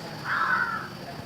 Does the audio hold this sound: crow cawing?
yes